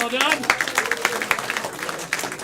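A live event crowd claps together in a dense, steady patter of many hands, with voices talking and calling out over it.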